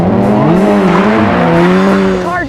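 A race car launches hard at the start of an SCCA Pro Solo event at El Toro, its engine revving loud and close with rising, wavering pitch and a touch of tire squeal as it pulls away.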